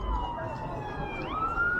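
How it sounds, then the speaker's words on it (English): Emergency vehicle siren on a street in Blackpool on a Saturday evening, a steady wailing tone that rises in pitch near the end, fairly close and loud over constant street noise. "But now there's another siren coming along."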